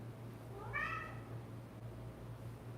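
A pet cat gives a single rising-then-falling meow, moderately close, over a steady low hum in a quiet room.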